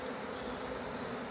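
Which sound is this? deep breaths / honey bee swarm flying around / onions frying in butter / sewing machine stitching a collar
honey bee swarm flying around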